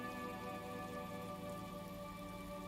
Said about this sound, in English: The rain falls.